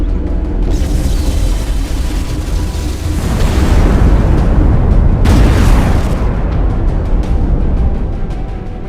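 An offensive orbital strike in Ashes of the Singularity, a real-time strategy game, pounds its target with loud, sustained, rumbling explosions. The blasts swell in a wide burst midway and roll on for several seconds.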